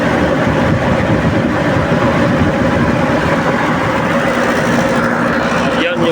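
A packaged air conditioner's compressor runs steadily up close, a loud continuous mechanical hum and rush with no pauses, and a brief disturbance near the end.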